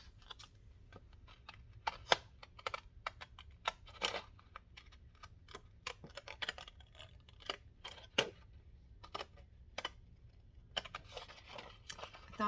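Scissors snip through paper to cut out small circle pockets, making a quiet, irregular string of short clicks and crisp snips spread across the stretch with no talking.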